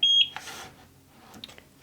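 Short electronic beep from a Eufy SoloCam S40 security camera after its rear sync button is pressed, a single clear tone at the start followed by quiet room noise.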